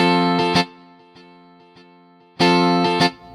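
A synth preset from a Reason A-List rack extension plays with a key held down. The rich, buzzy sustained tone pulses with two loud rhythmic swells and fainter ticks between them.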